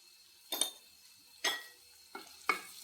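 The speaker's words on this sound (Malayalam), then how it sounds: "ഒന്ന് ഇളക്കി കൊടുത്ത് നല്ലോണം ഒന്ന് ഇളക്കി കൊടുത്തിട്ട്" A spoon stirs a beetroot stir-fry in a pan, making three short scraping, clinking strokes about a second apart over a faint background, with no talking.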